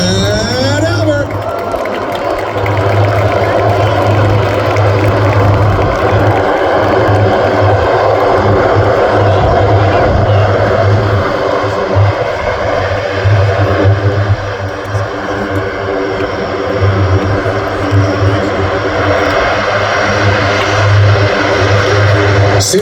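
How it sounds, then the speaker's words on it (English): The Blue Angels C-130 propeller transport, Fat Albert, flies at an air show with a loud, sustained propeller and engine roar that fills the whole stretch while an announcer speaks over it. "with the stars and stripes flying proudly above the cockpit, the Blue Angel C-130."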